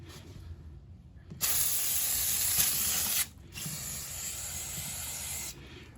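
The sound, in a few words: spraying brake parts cleaner on a Husqvarna/KTM engine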